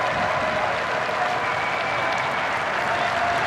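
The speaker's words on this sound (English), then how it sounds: "you can hear from the crowd how popular Matuk is" Football crowd applauding as the home captain is substituted off during a Lebanon v Djibouti Arab Cup qualifier; steady, dense clapping fills the stadium throughout with no pauses.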